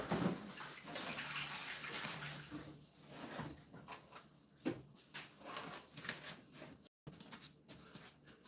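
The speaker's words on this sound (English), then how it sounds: "I'm gonna wash my sink out." Running water rinses out a kitchen sink, a steady close splashing rush with a few light knocks and clatters. It continues throughout, briefly cutting out near the end.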